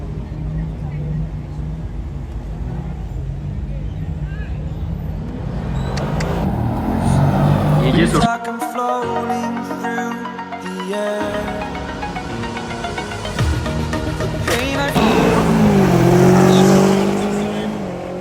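Race cars driving and revving at a car race in Lonavala, with loud, sustained engine roar that rises and falls as cars accelerate and pass, while people talk over it throughout.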